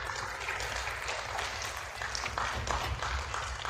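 Audience applauding as a guest named Andi is invited onto a stage, a steady, dense wash of clapping from a crowd, constant in level throughout and somewhat distant.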